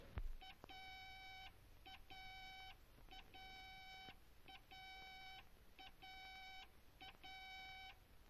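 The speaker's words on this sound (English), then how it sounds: "I hear a series of dot dashes," A faint electronic aircraft radio-range beam signal, heard in earphones left of course, repeats a short blip followed by a longer held beep, the dot-dash pattern cycling steadily over background hiss.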